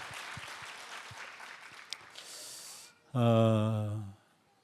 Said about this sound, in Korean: 하나님께 영광의 박수와 함께 우리 고등부에게 격려의 박수 드리겠습니다